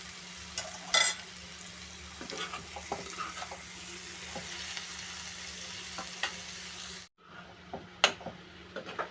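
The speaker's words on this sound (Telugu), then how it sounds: "ఇందులోనే ఎండు చేపలు కూడా వేసేసుకున్నాం. ఇప్పుడు వీటన్నిటిలో ఒకసారి కలిపేసుకున్నామండి." A spoon stirring dry fish and egg curry in a pan, with soft scraping and shuffling over a low sizzle, close by. A brief silent break comes near the end before a couple more scrapes.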